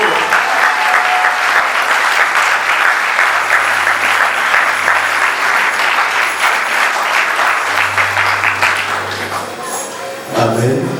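A large church congregation at a convention breaks into loud, sustained applause that holds steady for about nine seconds before fading. A low tone hums beneath it and a voice rises near the end.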